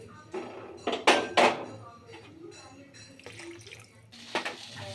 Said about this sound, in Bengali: এখন এর মধ্যে দিয়ে দিলাম একটু ঈষতোষ্ণ জল